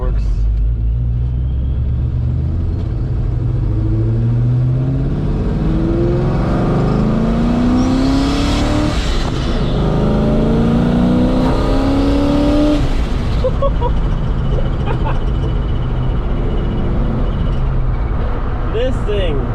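A Mustang with a ProCharger supercharger revs and accelerates hard, rising engine pitch sweeping upward in several pulls with a loud rumble and whine, heard from inside the car under occasional talk.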